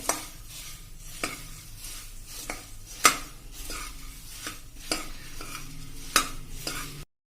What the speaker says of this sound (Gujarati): એટલે 1 મિનિટ આપણે એને આ રીતે હલાવશું અને કલર ચેન્જ નહીં થવા દઈ